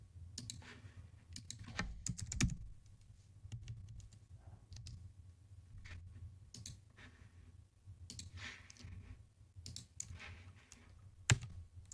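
Soft, quiet keyboard typing and mouse clicks on a computer, irregular bursts of light taps with occasional sharper clicks across a hushed background.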